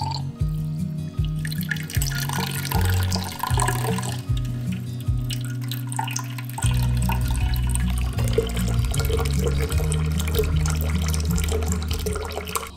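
Wort is recirculated during the vorlauf step of home beer brewing after the mash, with liquid trickling and splashing steadily alongside intermittent low pump-like hums and clunks, close and moderately loud.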